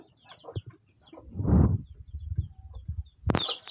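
Chickens cluck and squawk near newly hatched Australorp chicks, with short calls, one louder burst in the middle and a sharp cry at the end, all close and unaccompanied by speech.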